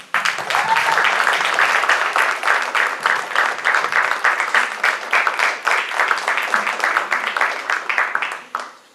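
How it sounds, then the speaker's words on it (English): An audience gives a sustained round of applause for student speakers and performers at an evening talks event, steady dense clapping throughout that tapers off at the very end. "Let's give another round of applause to all of them."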